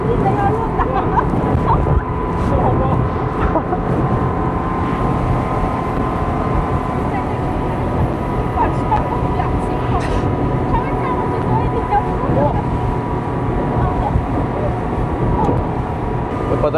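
Speedboat engine drones steadily and loudly throughout as the boat runs over open sea near Hong Island in Krabi, Thailand, with broadband water and wind rush and voices talking over it.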